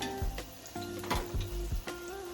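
Okra and garlic frying in a pot give a steady sizzle, broken by several sharp scrapes and stirring knocks from a spoon against the pot.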